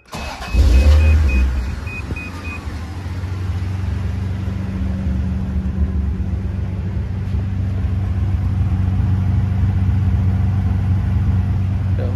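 A 1985 Toyota Celica Supra engine catches with a burst, then settles into a steady, deep idle that holds loud and even throughout, with no talking.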